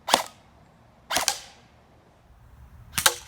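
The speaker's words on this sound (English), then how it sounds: "The first shot didn't actually shoot. Nothing was chambered in the round yet." A Valken ASL Model M airsoft rifle firing: three sharp, snappy cracks spaced about a second or more apart, close and distinct, with quiet between them and no talking.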